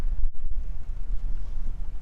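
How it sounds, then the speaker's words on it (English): Strong wind buffets a sailboat on San Francisco Bay, a loud, steady roaring rush across the microphone with brief dips, heard alone without voices. "It's been pretty windy today"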